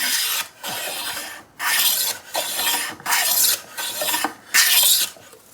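A hand plane shaves the edge of a wooden board in six or seven rhythmic strokes, each a loud rasping swish separated by a short silent gap, close up and with no talk.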